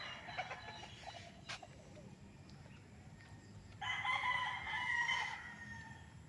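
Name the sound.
chickens and rooster crowing at a farm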